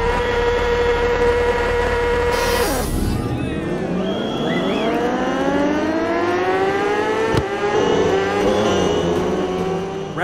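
A high-pitched motorcycle engine in the racing game RiMS Racing revs hard, its whine rising and falling through quick gear shifts, loud and raspy, with a brief sharp burst midway.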